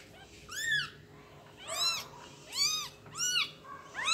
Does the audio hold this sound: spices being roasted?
no